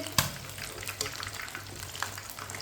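Chicken pieces frying in hot oil in a home kitchen, a steady low sizzle with a few sharp clinks and scrapes as the pieces are turned, close and fairly quiet.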